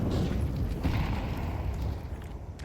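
Grenade blast in a Counter-Strike match, a heavy low rumbling boom filling the whole stretch with dense sustained roar rather than one sharp crack, loud and continuous.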